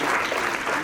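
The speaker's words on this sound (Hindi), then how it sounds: "गरजोरा तालियां सोनम के लिए भी।" Brief applause for a student at a school in Katihar, a short, dense patter of many hands clapping together, steady and fairly close for under a second.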